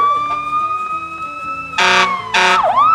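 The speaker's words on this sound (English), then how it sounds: "The sirens blare." Fire truck sirens blare loud and close, a steady wailing tone that is joined by two bursts of harsh, blaring alarm near the end.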